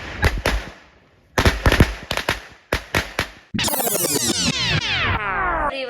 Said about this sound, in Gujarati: મારું મોસ્ટ ફેવરેટ ફટાકડો